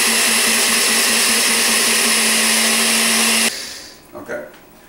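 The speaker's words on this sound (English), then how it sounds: "You're going to put that in the blender." A blender grinds black beans into powder, a loud steady whirring drone that cuts off abruptly partway through, followed by faint handling clatter.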